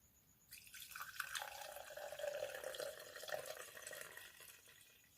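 Skittle-infused vodka slowly oozing through a strainer, giving faint, close dripping and trickling liquid sounds that run steadily without talk.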